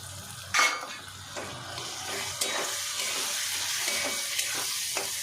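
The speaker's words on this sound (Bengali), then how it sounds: "সেগুলো এই মশলাটার মধ্যে দিয়ে আমি কষাবো" Boiled medium-sized soybeans stir-fried in spice masala in a pan, with a steady sizzle and repeated scraping clinks of a spoon against the pan, a sharper knock near the start, no talking.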